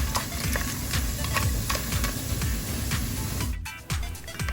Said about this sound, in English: So now we'll be adding our 1 cup of mushroom, and we're gonna saute a bit